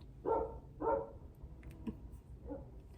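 A voice imitates a dog barking while its owner is away in a store: two louder yaps followed by softer barking sounds, quiet and fairly close.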